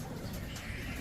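Low, soft pigeon cooing over a steady outdoor background, continuous and moderately faint throughout.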